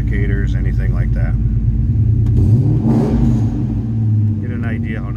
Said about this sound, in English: Get an idea how nice that Borla exhaust sounds on this one too.